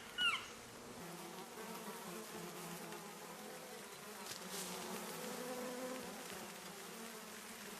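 Agitated bees swarm around a wild bee's nest in the forest, a dense, steady buzzing drone that fills the whole stretch at low level, with one brief louder pass near the start and no talking.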